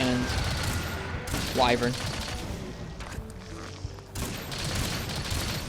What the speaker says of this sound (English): you'll be able to kick out a lot more raw damage for your primary shot types if you're just firing really fast like this